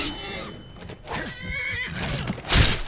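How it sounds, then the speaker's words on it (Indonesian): A horse neighs in a video game, a loud, wavering whinny with quavering pitch sweeps, ending in a sharp burst of noise. "Ini kuda kita galak banget guys nih."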